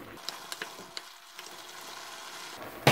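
A vegan stir fry is mixed in a hot pan, with soft sizzling and a few light scraping taps from stirring close up, ending in a brief louder clatter.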